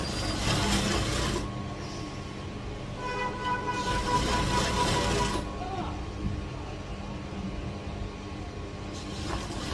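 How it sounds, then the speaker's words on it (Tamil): Sewing machine stitching a folded-back piece of a saree blouse, a rapid mechanical whirring running in bursts with brief pauses between, close and fairly loud. "இப்போ இதை நாங்கள் மடித்து தைக்க போகிறோம்."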